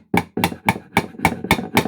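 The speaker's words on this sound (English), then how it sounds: "we're going to see if we can hammer that back out again." A hammer strikes a nail again and again to drive it back out of a wooden hand-tool tote, giving seven quick, evenly spaced close-up blows.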